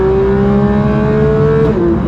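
A Porsche 911 GT3 of the 992 generation revs hard near 8,000 to 9,000 rpm, a loud, piercing engine wail that holds high and steady, then dips briefly near the end as the revs drop.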